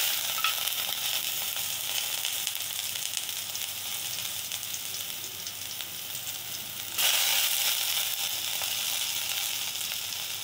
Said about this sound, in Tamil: வெங்காயம் சேர்த்துடலாம்.